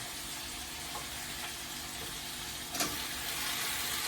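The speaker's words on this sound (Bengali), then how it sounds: "এবার আমি দেব এই পুঁই শাকগুলো" Malabar spinach (pui shak) hits a pan with cumin and chilli, giving a steady, fairly quiet broadband sizzle and hiss with a brief louder splutter as the leaves go in.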